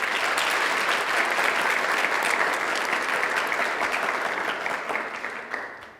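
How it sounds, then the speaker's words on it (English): Sustained applause from an audience at a high school student's college signing ceremony, steady and dense clapping throughout that tapers off slightly near the end, with no voices over it. "So let's give Mia a round of applause."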